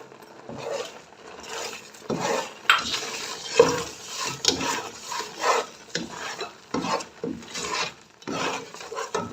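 A spoon repeatedly scrapes and stirs a thickening milk mixture with sugar and cardamom powder in a pan as it roasts, giving rhythmic rasping strokes with soft sizzling between them and no voices.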